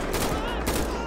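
Gunfire in GTA 5, a brief dense burst of rapid shots blending into a loud continuous roar, close and harsh, with no clear talk over it.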